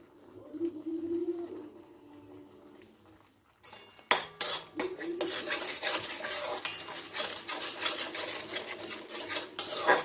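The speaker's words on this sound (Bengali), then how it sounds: "লো ফ্লেমে একটু নেড়ে নেব।" Momo chutney with coriander leaves is stirred in a pan over a low flame, giving quiet scraping and clinking of a spoon against metal, faint at first, then a louder, busier stretch of stirring and clatter after a brief pause.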